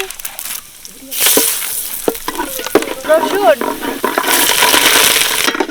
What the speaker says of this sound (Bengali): এখন আমরা তেলের মধ্যে পাঁচফোড়নগুলো দিয়ে দিচ্ছি, তেজপাতা দিচ্ছি